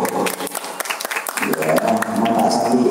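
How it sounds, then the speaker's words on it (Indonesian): Audience applause at a school Islamic competition, a dense burst of clapping from a crowd that builds into a steady roar, with voices mixed in. "ya tepuk tangan untuk ketiga itu"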